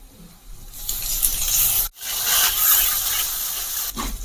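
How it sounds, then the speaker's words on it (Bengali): Ginger garlic paste dropped into onions frying in a pan, giving a loud, steady sizzle and hiss with a brief break near the middle and no talking. "পেঁয়াজটাকে দেখুন আমি কিছুটা টাইম নিয়ে ভেজে নিয়েছি"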